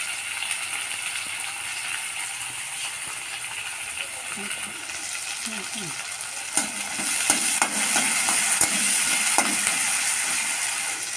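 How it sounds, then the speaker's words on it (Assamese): Chopped tomatoes fry in a kadai for an Assamese fish curry, giving a continuous hiss that swells after the first few seconds, with scattered clicks and scrapes of stirring layered over it. "এইখিনি এতিয়া বিলাহীখিনি মই কেৰাহীত দি"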